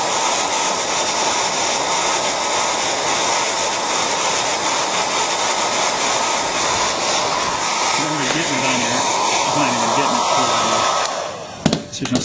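A hair dryer blows steadily and loudly to heat an iPhone 3G touchscreen, a constant whooshing hum, with a voice briefly talking underneath near the end before it stops.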